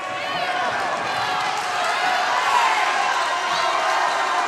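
A loud, steady roar from the crowd fills the gym at a high school basketball game between the Washington Demons and Keokuk Chiefs, with a commentator talking over the din.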